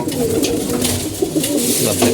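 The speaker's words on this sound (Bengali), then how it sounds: "এদিকে আমাদের কবুতরগুলো খাবার দিছি কবুতর আছে খাবার খাইছে" Pigeons feeding nearby give soft, low, repeated cooing calls over a steady background hum, with faint voices now and then.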